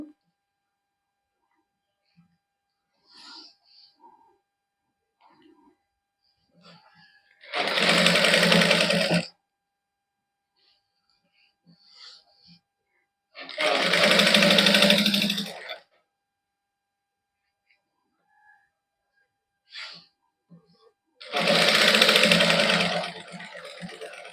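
An electric sewing machine stitches plain fabric for a sleeve design in three loud bursts of rapid whirring, each lasting a couple of seconds, separated by quiet pauses with faint handling sounds.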